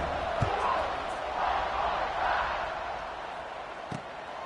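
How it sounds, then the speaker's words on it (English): Football stadium crowd at a college game against LA Tech buzzing after a score: a steady, dense roar of many voices with a couple of sharp thumps, heard continuously across the stretch. "this crowd is buzzing after that last score"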